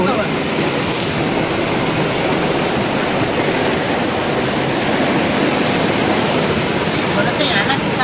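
Floodwater rushing after heavy rain in Junagadh, a loud, dense, unbroken roar of moving water that holds steady throughout.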